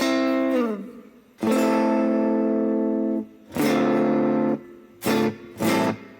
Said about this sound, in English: Sounds kind of phasey, chorusy.